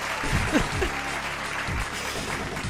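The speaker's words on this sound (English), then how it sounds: "thanks for the claps as well, Crazy Tony and Voxel Batcher." Applause sound effect in a livestream, a steady patter of many hands clapping that holds at an even level, with some tonal game music or chatter beneath it.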